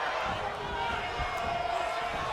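A crowd in a WWE 2K wrestling game cheers in a steady, loud, continuous roar filling the arena, with speech running through it.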